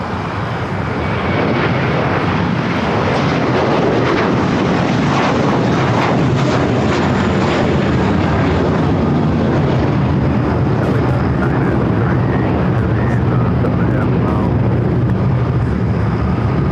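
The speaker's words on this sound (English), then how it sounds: "we got that U.S. Airways Retro A321 with American now rolling down to 25 right" American-operated Airbus A321 in US Airways retro livery rolling down runway 25 right at LAX, a loud, steady jet roar that builds in the first seconds and holds broad and powerful throughout, close, with no talking.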